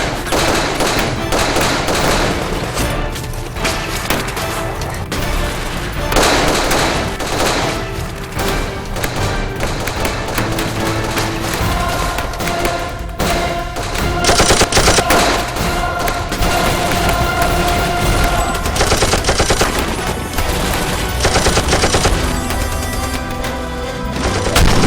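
A loud, sustained barrage of gunfire in an attack scene from a military drama, with dense overlapping shots, booms and thuds filling the whole stretch with almost no pause.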